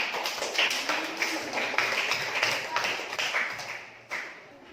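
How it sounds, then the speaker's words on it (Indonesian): Applause in a classroom, a quick run of sharp, fairly loud claps in a steady rhythm that lasts a few seconds and then tapers off. "Tepuk tangan."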